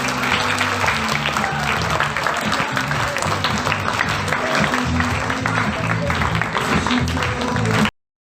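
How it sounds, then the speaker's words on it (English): Audience applause at a school festival after staff members are introduced, a sustained wash of clapping over a droning background tone that cuts off abruptly. "Let us all give them a huge round of applause."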